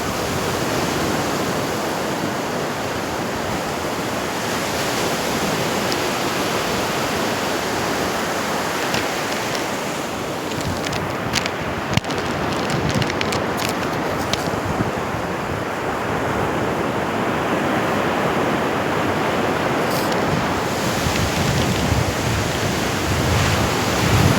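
Sea waves surge and break continuously on Tannirubhavi beach in Mangalore, a steady broadband wash of surf with wind noise over the microphone, loud and close with no voices.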